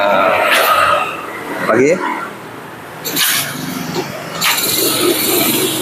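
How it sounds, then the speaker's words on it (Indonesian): A Yamaha Vega R motorcycle with a dead ignition fault starts and runs, its engine a modest mid-range hum beneath someone talking through most of the stretch. "Nah, ini motornya udah nyala teman-teman ya."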